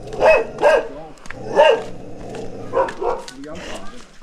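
Big dogs bark loudly and close by in several separate bursts, some coming in quick pairs, with short quieter gaps between them.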